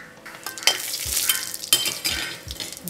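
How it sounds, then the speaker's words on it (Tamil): Fennel and cumin seeds hitting hot oil for a Jaffna-style banana flower fry, bursts of loud crackling sizzle with spoon clinks and scrapes against the pan, close and busy. "இப்போ எண்ணெய் கொதிச்சுட்டு நாங்கள் பெருஞ்சீரகம் போடுவோம், சின்ன சீரகம் போடுவோம்"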